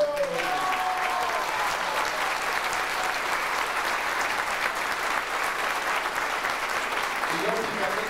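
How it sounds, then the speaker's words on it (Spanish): A concert audience gives loud, continuous applause for a polyphonic choir and its soloists after a zarzuela performance, a thick, steady roar of clapping with faint voices mixed in. "Un aplauso muy fuerte."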